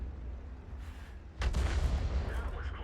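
A 155mm tank gun fires in a tank video game, one heavy, booming blast that bursts in partway through over a steady rumbling engine drone, with a voice talking alongside.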